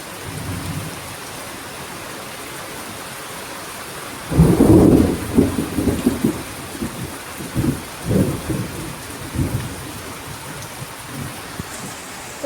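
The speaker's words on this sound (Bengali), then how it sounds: "এখন প্রচণ্ড পরিমাণে বৃষ্টি হচ্ছে। আর তেমন আকাশ ডাকছে।" Heavy rain pours steadily while a loud rumble of thunder breaks out and rolls on in several fading booms, close and powerful.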